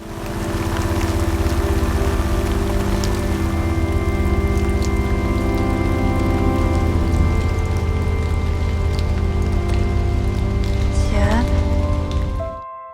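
Heavy rain pours down without pause, a dense, loud, steady hiss that holds level for the whole stretch, blended with sustained musical tones underneath, before everything cuts off abruptly just before the end.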